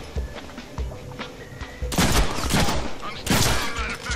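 Pistol gunshots in the Deadpool video game, a few sharp muffled pops early followed by two louder bursts of shots and impact noise, close and punchy, with game sounds around them.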